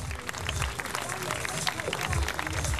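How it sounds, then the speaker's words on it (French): Audience clapping and crowd noise at a Dakar fashion show, a brief, dense burst of applause with voices mixed in. "Mesdames, Messieurs, applaudissez très fort."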